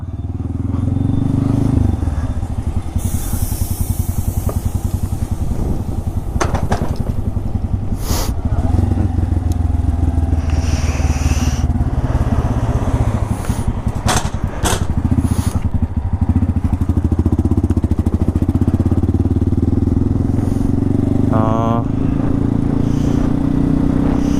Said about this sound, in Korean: 다행히 시동 걸리네요.